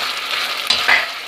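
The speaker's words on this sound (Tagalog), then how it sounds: "hayaan lang natin mag-prito siya sa sarili niyang mantika" Pork adobo with oyster sauce frying in its own rendered oil after the liquid has reduced, a steady close sizzle with a few brief louder crackles and pops near the end.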